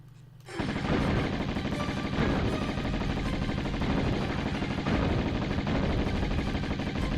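Sustained rapid gunfire from an enemy in the Tomb Raider video game, a dense continuous burst starting abruptly after a brief quiet moment and holding loud and steady throughout.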